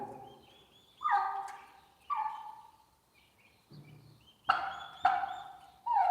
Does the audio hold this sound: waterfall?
no